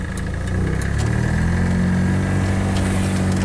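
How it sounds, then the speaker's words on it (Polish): A Ligier microcar's small engine drones steadily up close, its pitch and loudness lifting slightly as the car pulls away in the summer heat. "Ruszamy ligierkiem. Droga wolna, jedziemy."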